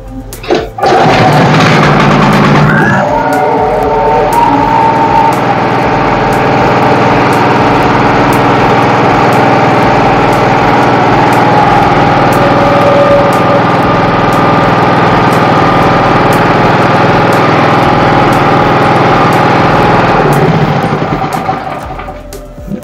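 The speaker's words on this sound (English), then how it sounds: "the sound of the generator improved, the generator speed increased" A 4-stroke electric generator engine with a repaired governor spring is kick-started and settles into a loud, steady running drone that holds for about twenty seconds before cutting off, with no talking over it.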